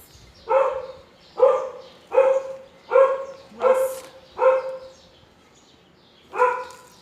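A neighbor's dog barks seven times, in a steady rhythm of six evenly spaced barks, a pause, then one more. The barks are moderately loud and slightly distant in a quiet outdoor garden setting, with no talking.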